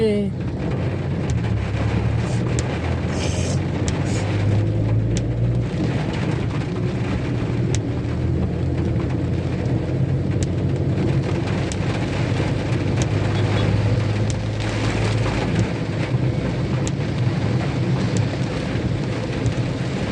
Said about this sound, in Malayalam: അങ്ങനെ മഴ ഞങ്ങൾക്കും കിട്ടി